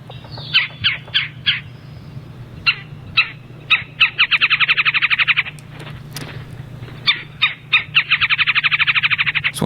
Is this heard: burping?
no